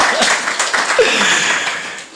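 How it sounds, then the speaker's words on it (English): Audience applause at a mindfulness talk, a steady patter of many hands clapping for a couple of seconds, close and fairly loud, easing off at the end. "Oh, big round of applause."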